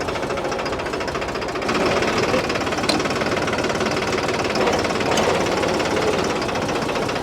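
A 2511 tractor runs with its PTO engaged, giving a steady loud mechanical engine rumble with a rapid knocking pulse that grows slightly heavier partway through and then holds constant.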